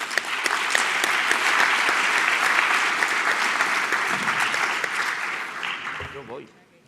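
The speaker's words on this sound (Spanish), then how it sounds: "La recibimos con un aplauso" Conference audience at a European cybersecurity event applauding steadily to welcome a telecommunications engineer, dense sustained clapping that fades out at the end.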